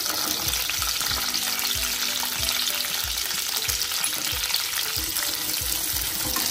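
Shallots (sambar onions) fry in oil in a pan for bisibele bath, giving a steady, close sizzle broken by a regular rhythm of spatula stirring strokes, with no talking.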